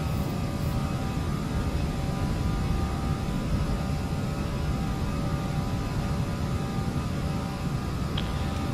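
Aerosoft A319 engines on the takeoff roll in the FSX flight simulator, a steady loud roar with broad rushing noise and a faint hum, continuous and unbroken throughout.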